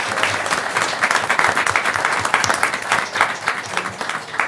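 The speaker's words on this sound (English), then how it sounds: "give Hattie a round of applause." Audience applause at a city council regular session, a dense, steady wash of many hands clapping close by and filling the clip at a fairly loud level with no talk over it.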